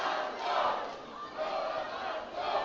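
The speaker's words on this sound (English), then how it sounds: "I can hear "Go Guelph Go" being chanted" A women's university rugby championship crowd chants rhythmically for Guelph against Laval, a broad roar of massed voices rising and falling, heard from a distance.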